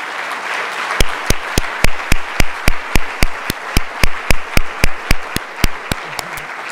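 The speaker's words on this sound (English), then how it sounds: "please stand up so that we can applaud all of you" A summit audience in Bali applauding chosen entrepreneurs, heard as a series of sharp, evenly spaced loud claps in a steady rhythm over a low background murmur.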